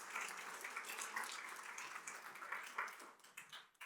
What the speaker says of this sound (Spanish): Un aplauso a Dios por eso.